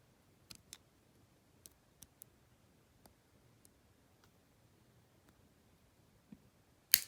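Small snips as bead wire loop burrs are trimmed closer with cutters, sparse quiet clicks spaced across a near-silent background, ending in one sharper, louder snap.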